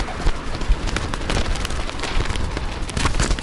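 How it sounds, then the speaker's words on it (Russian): Hungry pigeons feeding on the ground, with a steady patter of pecking taps and scattered wingbeats, fairly close and continuous with no talk. "Самые голодные голуби в мире."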